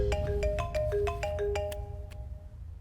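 A phone ringtone plays a bright repeating melodic pattern of tones up close, fading out after a few seconds with no talking.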